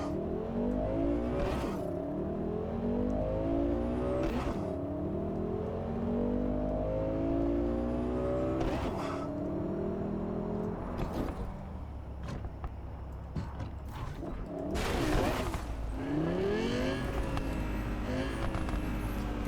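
Car in Cyberpunk 2077 drives steadily, its engine humming and rising and falling in pitch through repeated revs and gear shifts, with sharp bangs and clatters breaking in now and then and no talking.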